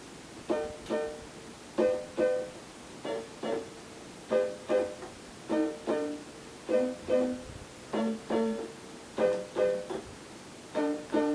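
Short, detached piano chords are struck in repeated pairs, each cut off crisply, forming a steady bouncing rhythm with brief gaps between.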